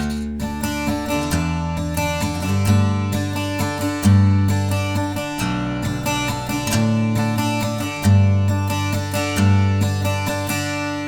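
Acoustic guitar strumming a song's verse in alternate tuning, bright ringing chords in a steady repeating strum pattern, close and loud with no voices.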